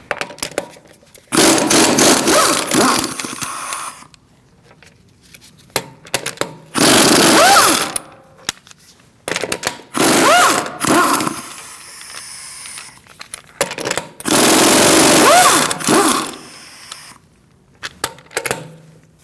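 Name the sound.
removing Mercedes-Benz C300 wheel with 17mm socket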